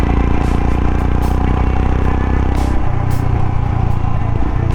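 On a mountain ride from Manali toward Jispa, a motorcycle engine strains with a loud, continuous low rumble, wind rushing past and occasional rattles, its pitch sagging and roughening after a few seconds.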